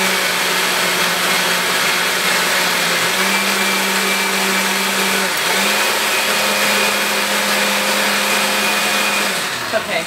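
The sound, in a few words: blender grinding beet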